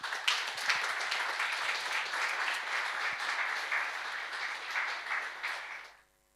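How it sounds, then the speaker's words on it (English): A conference audience applauds as a speaker takes the stage for a talk on AI testing, brisk, dense clapping from a sizable crowd lasting about six seconds before cutting off abruptly. "Please, a round of applause for him."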